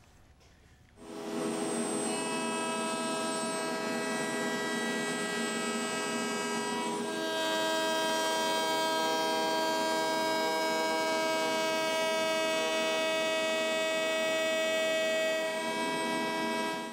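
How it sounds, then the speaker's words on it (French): Wood router with a straight bit trimming a workpiece on a jig spins up from a low hum into a loud, steady tonal whine that holds for many seconds, alone without talk. "Nous allons utiliser un fer droit à la toupie."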